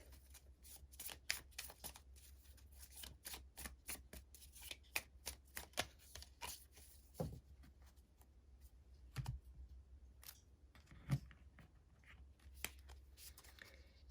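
Tarot cards shuffled by hand in quiet surroundings, a quick run of soft riffling flicks that pauses and resumes in short bursts, with no voices.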